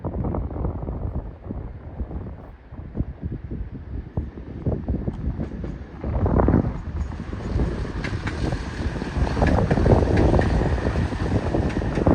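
Class 170 diesel train rolling along the track at Peterborough station, a low rumbling drone building and swelling as it nears, with wind buffeting the microphone and a faint high whine appearing later.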